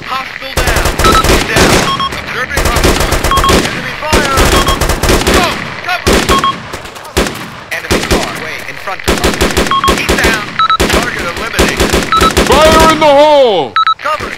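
Dense machine-gun and rifle fire from the ArmA 2 airborne mission, loud and nearly continuous in rapid bursts with electronic beeps and game voices mixed in.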